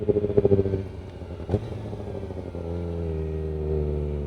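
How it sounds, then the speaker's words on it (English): A Kawasaki Ninja ZX-4RR sport motorcycle exhaust blips through a few quick revs, gives a sharp pop, then settles into a steady, throaty idle close by. "I want to get some good audio, some exhaust sounds as well in this beautiful machine"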